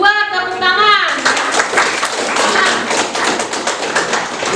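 Classroom clapping after a student, Rizky from group 2, is handed a best-presenter trophy: a single voice speaks first, then dense, steady applause from many hands fills the room loudly for several seconds.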